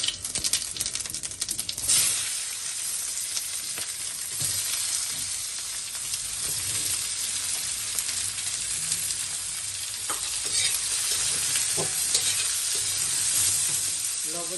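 Cumin and onion sizzle in hot oil at the start of a shrimp curry, a steady hiss running throughout with scattered clicks and scrapes of stirring, moderately quiet and without voices.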